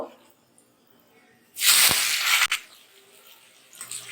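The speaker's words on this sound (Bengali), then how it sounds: "এবার পেঁয়াজগুলো দিয়ে দেবো কুচানো পেঁয়াজগুলো দিয়ে দেবো" Chopped onions hit hot oil for chicken kasha, setting off a sudden loud sizzle that stays strong for about a second, then settles into a softer, steady frying hiss.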